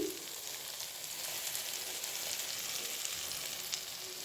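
Pureed tomato from two large tomatoes is tipped into fried spice paste in a pan for a fish curry, and a steady, even sizzle hisses close up throughout with no voices.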